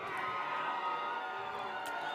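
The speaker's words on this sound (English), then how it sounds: "Crowd making a little noise as, once again, the Pointers visit the red zone" Steady, diffuse crowd noise from spectators at a college football game between Wisconsin-Stevens Point and Albion College in Albion, a continuous distant roar with scattered shouts and no clear talk on top.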